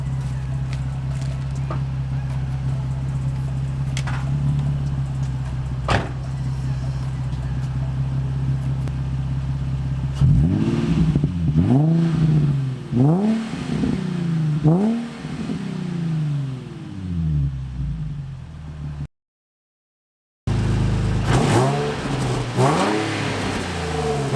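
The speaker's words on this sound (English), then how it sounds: "Now it's time to do some revs, and then I'm gonna do a drive-by so that you can hear how it sounds." A Nissan 350Z with an ARK Grip exhaust idles with a low, steady drone, then snaps through a string of sharp revs that rise and fall rapidly and loudly up close, followed by another burst after a brief dropout.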